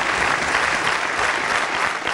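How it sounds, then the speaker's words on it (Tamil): Studio audience applause on a Tamil TV celebrity show, a steady, dense wash of many hands clapping at close range that holds at an even level throughout with no break. "ஒரு பெரிய கைத்தட்டல்கள் சார் கொடுத்தலாம் நம்ம"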